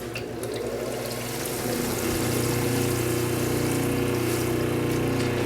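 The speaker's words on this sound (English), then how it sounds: "So if you need a little bit of water squirting at your pad, that's how that works." A water feed pump on a lapidary polishing setup hums steadily and squirts water onto a polishing pad, its motor drone and liquid trickle rising into a constant, close, even hum.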